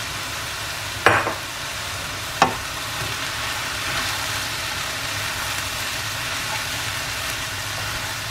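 Cauliflower fries in a pan with a steady hiss, and two sharp knocks of a utensil stirring against the pan break through early on, close and moderately loud.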